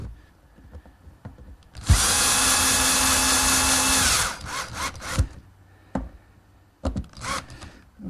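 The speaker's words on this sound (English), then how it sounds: "now I can put the screws for the base through the pre-drilled holes" A power drill drives a screw through a pre-drilled hole into a wooden storage base in a garage workshop, one loud steady whir of about two seconds, then short bursts and clunks of handling nearby.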